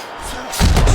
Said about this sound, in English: Targeting that head with the combination punching.